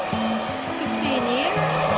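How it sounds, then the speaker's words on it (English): Pink hair dryer blowing on a watercolour painting, a steady loud airy whir with a faint wavering hum, heard close throughout without speech. "This is my very technical pink hair dryer"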